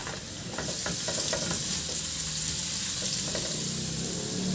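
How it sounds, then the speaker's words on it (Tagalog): Garlic sautéing in oil in a wok, a loud, close, continuous sizzle with brief spatula scrapes early on. "Igisa ko na rin yung bawang"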